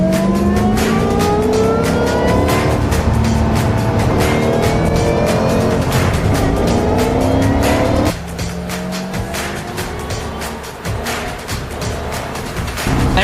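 A 2008 Ford Mustang Shelby GT500 with its 5.4-liter supercharged V8 roars hard through the gears, rising in pitch with a shift near the end, loud and close with tire noise underneath.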